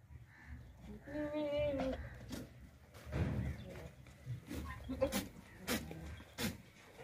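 Several goats in a lot of about twenty bleat in short wavering calls, fairly close, with people talking and occasional knocks and thumps around them.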